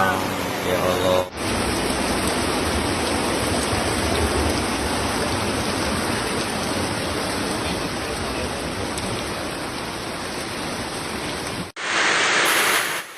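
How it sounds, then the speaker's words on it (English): Heavy rain pounding Bali during flash floods, a dense, steady broadband roar of downpour that stays loud and unbroken for most of the span, with brief cuts at the start and end. "Heavy rain that pounded Bali from Tuesday morning, September 9th, to Wednesday, September 10th, 2025, brought disaster"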